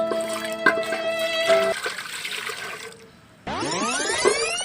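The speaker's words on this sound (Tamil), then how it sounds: "இப்போ குண்டால தண்ணி ஊற்றிக்கலாம்." Water poured into a cooking pot while making sweet kozhukattai, a steady splashing trickle that stops briefly and then resumes with a rising, filling tone, close and clear.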